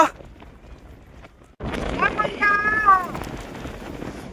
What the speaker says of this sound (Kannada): ಗಾಳಿಗೆ ಏನು ಕೇಳಿಸ್ತಾ ಇಲ್ಲ ನೋಡಿ. ನಂದಿ ಹತ್ರ ಬಂದಿದೀವಿ. ಫುಲ್ಲು ಗಾಳಿ.